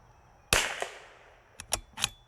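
Damaged .22 LR rounds fire from a gun at a target: one sharp, close crack, then a brief pause and a quick burst of three or four smaller snapping cracks.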